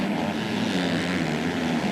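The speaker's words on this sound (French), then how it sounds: "Regardez cette accélération incroyable. Gaz en grand." MX2 motocross bike at full throttle during a 2005 Isle of Wight MXGP race, a loud, steady, high-revving engine buzz held for two seconds without a break.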